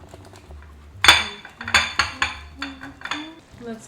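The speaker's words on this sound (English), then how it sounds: "Give it a stir and allow it to continue to cook." A spoon scrapes and clinks against a pot of meat sauce for lasagna, a series of close, distinct stirring knocks spaced unevenly over a few seconds.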